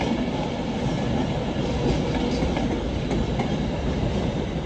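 Class 350 passenger unit 350-130 runs past at close range: a steady, loud, wideband rumble with rail clatter throughout, with no voices.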